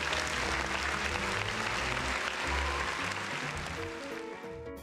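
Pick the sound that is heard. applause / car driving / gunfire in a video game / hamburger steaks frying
applause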